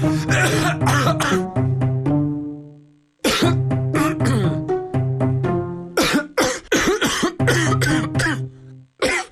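Bursts of coughing come in rapid clusters with short pauses between, loud and close, with rough chesty hacking and throat clearing.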